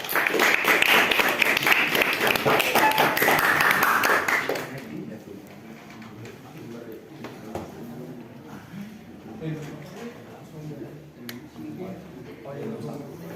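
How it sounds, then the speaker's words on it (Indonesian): A classroom of students claps for their classmates, a loud, dense burst of many hands lasting several seconds before cutting off, followed by quieter room sound with voices talking. "Tepuk tangan untuk teman kalian."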